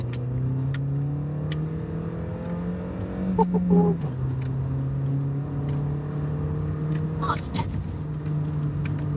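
A Volkswagen GTI engine hums steadily at low revs, rising briefly in pitch around the middle and again near the end, with a short spoken remark over it.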